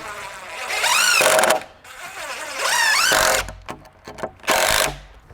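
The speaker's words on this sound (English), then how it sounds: "Remember the SDS screws, and that will just go directly into the joist." SDS screws driven with a power driver into a wooden floor joist while framing a DIY cabin: three loud, close bursts of rising motor whine with short pauses between them, and no talking.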